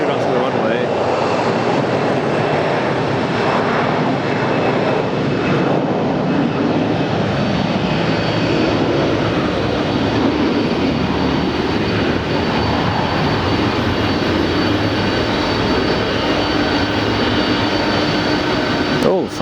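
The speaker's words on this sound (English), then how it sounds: "We've got a 767 coming for takeoff." A Boeing 767 jet airliner taking off at Atlanta airport gives a loud, steady, broad engine roar that fills the whole stretch and stays near and powerful throughout, with a person talking over it.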